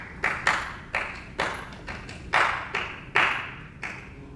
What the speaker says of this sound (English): rhythmic clapping